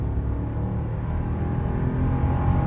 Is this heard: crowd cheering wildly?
no